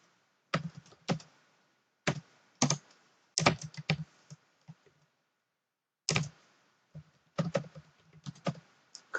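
Bursts of close, crisp keystrokes on a computer keyboard as PHP code is typed, coming in quick clusters separated by short pauses, with no talking.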